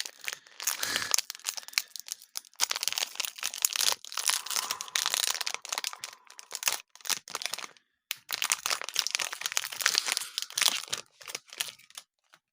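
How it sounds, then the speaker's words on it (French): Crinkling and tearing of a trading card booster pack's plastic foil wrapper as it is opened, close and busy in dense bursts for most of the span with a short pause in the middle. "Donc on va ouvrir le second paquet."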